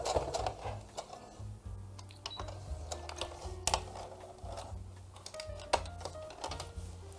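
A sewing machine stitching in reverse while sewing a 3D fabric face mask, giving a faint, steady rapid ticking and whirring with small clicks, heard close and alone.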